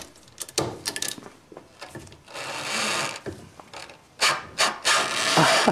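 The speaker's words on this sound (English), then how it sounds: "you can hear the diaphragm. The old diaphragm is all tangled up in there." While a Citroen brake accumulator is unscrewed, the old diaphragm tangled inside makes intermittent scraping and rubbing noises in irregular bursts, close up and fairly faint, with no talking.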